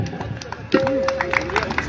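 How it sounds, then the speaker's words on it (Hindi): Outdoor audience at a light and sound show applauding, a diffuse patter of clapping and crowd murmur rising midway, with chatter and a sustained tone over it. "तो मनाइए ना जश्न खुलकर तालियों के साथ।"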